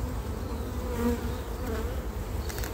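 Honey bees hum densely around an open beehive during an apiary inspection, a steady close buzzing swarm with individual bees droning past, no voices.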